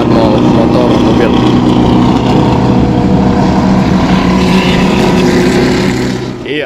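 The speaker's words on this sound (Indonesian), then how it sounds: "mobil yang balapan di sirkuit Mandalika" GT World race cars racing around the Mandalika circuit, a steady loud drone of several engines blending together at close range, holding level for most of the stretch before easing off at the end.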